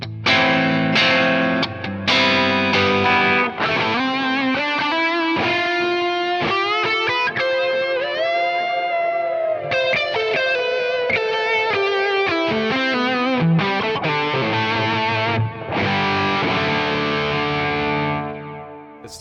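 An electric guitar played through a Keeley Halo dual echo pedal rings out in sustained melodic lines, each note trailing delay repeats and distorted shimmer, loud and continuous with no talking.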